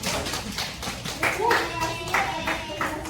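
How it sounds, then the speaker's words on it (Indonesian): A classroom of students claps hands in a steady burst of moderately loud clapping, with voices talking over it. "Oke, tepuk tangan dulu dong."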